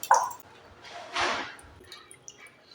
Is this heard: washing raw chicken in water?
yes